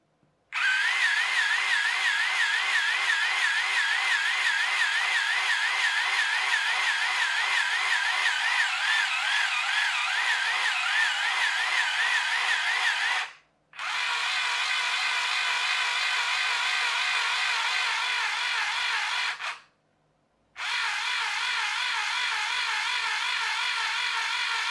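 Small electric toy motors of a Little Tikes Squeezoos Bubble Bus whine steadily and loudly, a high buzzing drone that cuts out twice for a moment before running on.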